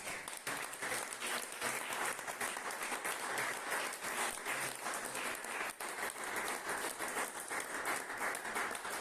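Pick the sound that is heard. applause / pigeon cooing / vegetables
applause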